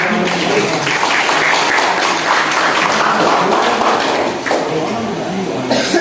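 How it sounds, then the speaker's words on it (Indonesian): Audience applause in a classroom discussion session, a steady loud wash of clapping that continues for several seconds, with voices mixed in. "mari kita beri aplaus"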